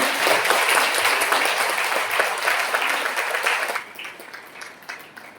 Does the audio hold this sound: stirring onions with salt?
no